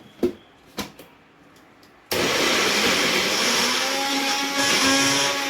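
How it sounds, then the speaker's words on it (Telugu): Mixer grinder blending cooked tomatoes for tomato pepper rasam: a few light knocks and clicks, then the motor starts up loud and keeps up a steady, close whirring roar to the end. "మిక్సీ పట్టుకుందాము."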